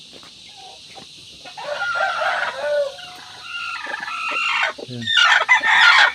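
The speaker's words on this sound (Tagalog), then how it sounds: "Isang nangingitlog dito, maingay." Chickens cluck and crow close by, with hens and chicks around a laying hen, a busy rising chorus of calls that grows louder toward the end with a brief word spoken.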